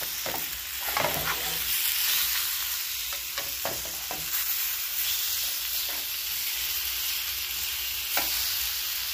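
Honey garlic glazed hotdogs sizzle steadily in a pan as they turn sticky, with broadband frying hiss and occasional sharp crackles and stirring clatters, close and alone with no talking.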